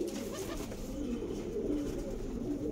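Pigeons coo steadily and close at hand, a dense overlapping murmur of several birds with no voices over it.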